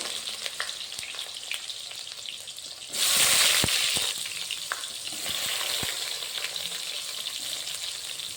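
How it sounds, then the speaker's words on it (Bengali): Brinjal pieces frying in hot oil in a pan, a steady crackling sizzle that swells louder for about a second midway, with occasional spatula taps, and no voices. "বেগুনটা আমি প্রথমে ভেজে নেব"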